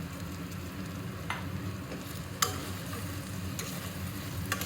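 Fried fish pieces stirred into a thick cooked-down masala for chilli fish, giving a low steady sizzle with a few soft scraping clicks of the spoon against the pan, close by and without voices.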